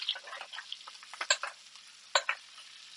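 Melted butter being basted in a pan on an induction stove, with soft sizzling, crackling and spoon-stirring scrapes in irregular bursts, fairly quiet and close with no talking.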